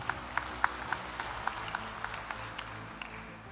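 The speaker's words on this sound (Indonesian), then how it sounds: "Berikan tepuk tangan untuk Bapak Rektor kita." Sparse, rhythmic clapping at a university doctoral graduation ceremony honouring the rector, fairly quiet and distant, with individual claps standing out at a steady beat.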